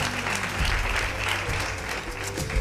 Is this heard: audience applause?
yes